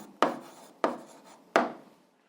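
Three separate scratchy strokes of writing during a math lesson, evenly spaced about two-thirds of a second apart, each a short abrasive rasp that fades quickly, close and quiet with no talk.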